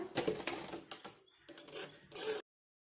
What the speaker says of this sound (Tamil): நெக்லைனில் வச்சு 1/4 இன்ச் கேப்பில் ஒரு தையல் போட்டுருங்க.